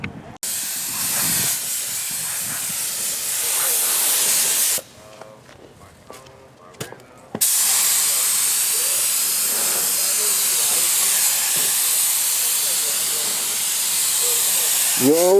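Primer spray painted onto a car, a steady loud hiss of the spray gun that runs in long bursts with a brief pause midway, close and continuous.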